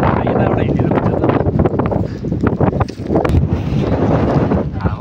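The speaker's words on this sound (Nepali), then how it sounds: "हावा लास्टै चलिरहेको छ त यहाँ" Strong wind buffets the microphone on a hillside in the Baglung hills, a loud, continuous rushing roar with gusty surges throughout, while people talk underneath.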